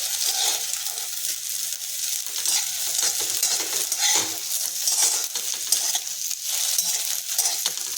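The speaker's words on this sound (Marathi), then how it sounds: "पूर्ण ही लाल होईपर्यंत भाजायची." Dal roasts in a pan while a spoon stirs it continuously, producing a steady dry sizzle with scraping and occasional light clinks of utensil against metal, close and fairly loud with no talking.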